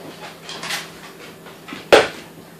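Eggs cracked into a banana bread pudding mixture, with a few light clinks and taps on a bowl followed by one sharper knock against the rim, close and clear.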